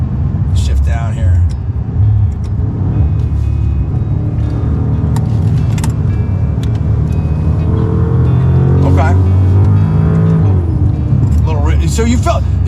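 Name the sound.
Maserati Ghibli Trofeo with Ferrari-built engine downshifting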